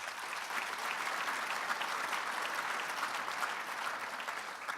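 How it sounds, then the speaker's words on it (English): Sustained applause fills a room at a Minneapolis breakfast event honoring Mayor Frey, a dense and steady wash of clapping from a large audience that holds at an even level throughout. "Please give Mayor Frey one more round of applause"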